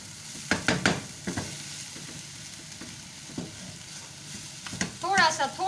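Shredded chicken, vegetables and black pepper stir-fry in a pan, a soft sizzle beneath a series of scraping and tossing strokes from a spatula, with a brief burst of speech near the end.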